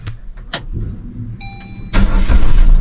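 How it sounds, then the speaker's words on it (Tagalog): A borrowed barangay service vehicle's engine cranks and catches after a couple of door and handling clunks, then settles into a loud, close idle. "Makina."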